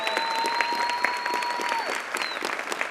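A graduation ceremony audience gives a sustained round of applause, steady dense clapping filling the room at even loudness, with faint tonal feedback lingering underneath.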